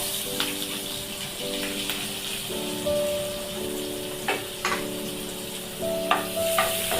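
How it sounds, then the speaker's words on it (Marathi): Onion and chopped green chilli fry in oil for a dry bombil masala, giving a soft, steady sizzle with occasional clinks of stirring under sustained background tones. "चांगला फ्राय करून घ्यायचा तेलामध्ये"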